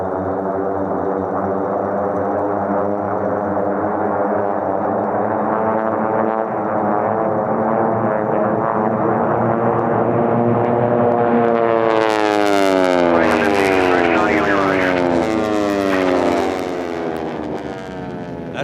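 A T6 racing aircraft with a Pratt & Whitney air-cooled 9-cylinder, 1,340 cubic inch radial engine roars loudly at an air race, a sustained propeller drone whose pitch sweeps downward as it passes by.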